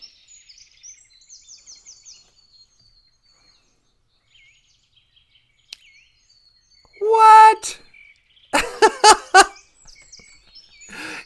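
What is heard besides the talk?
birds chirping outdoors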